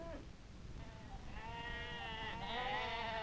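A sheep bleats once in a long, wavering cry, fairly close, over a soft steady background.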